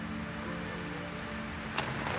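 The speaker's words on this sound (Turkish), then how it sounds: "Ha bir de yağmur başladı." Steady rain falling at night, a soft continuous patter heard alone with a faint low hum beneath and one slightly louder tap near the end.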